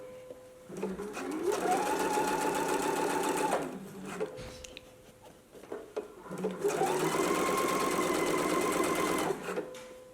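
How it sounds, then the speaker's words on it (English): A sewing machine stitches zipper tape onto a fly front in two loud, steady runs of motor hum and needle chatter, separated by a short pause with small handling noises. "Let's go to the sewing machine and do those 2 permanent stitches now."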